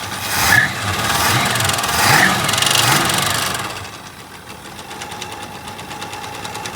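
A 1965 Ford Mustang coupe V8 with a freshly fixed carburetor idles steadily and close by, a loud, rough mechanical run that settles into a quieter, even idle partway through.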